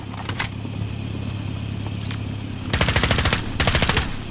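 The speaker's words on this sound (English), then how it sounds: "I'm taking fire!" Loud close bursts of rapid automatic gunfire in a battle royale shooter, with a few single shots early on, then two sustained volleys of rapid fire near the end.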